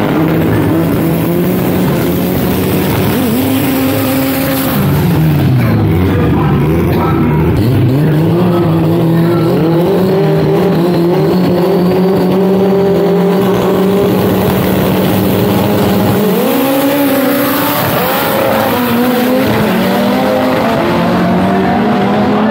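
Two cars launch at a drag racing event in Brazil, loud engines roaring and rising in pitch through repeated gear changes, continuous and close, with tire squeal as they pull away.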